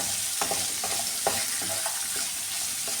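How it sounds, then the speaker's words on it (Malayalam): Onion, shallots, green chilli and garlic sauté in a pan with a steady sizzle, broken by repeated scraping strokes of a spatula stirring close by. "ചെറിയ രീതിയിൽ ഒന്ന് വഴറ്റിയെടുക്കുന്നേ ഉള്ളൂ ഈ സവാള ചെറിയുള്ളി പച്ചമുളക് വെളുത്തുള്ളി ഇട്ട് കൊടുത്തിട്ടുണ്ട്"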